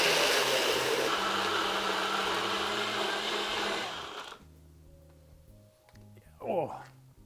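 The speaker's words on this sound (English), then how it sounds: "we're going to screw on the blender top and pop it onto our NutriBullet and give it a whirl" A NutriBullet blender whirs loudly, crushing ice into a frozen margarita for about four seconds, then stops. Quiet clinks and handling follow, and a brief voice is heard near the end.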